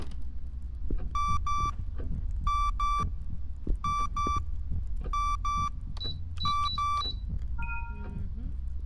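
A repeating electronic alarm in the horror game Song of Horror, sounding as paired sharp beeps in a steady rhythm over a low rumbling ambience, followed by a few higher chirps before it stops.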